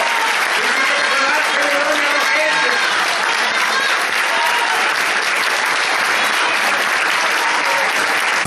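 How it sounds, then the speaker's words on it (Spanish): Loud, dense audience applause for performer Pepa Bayo at a Paral·lel variety show, continuous and full throughout, with crowd voices and cheering mixed into the clapping. "¡Fuerte y se aplauso para Pepa Bayo!"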